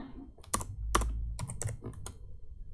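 Several quick keystroke clicks on a computer keyboard while a path is typed into R, with a low hum underneath, close and fairly quiet.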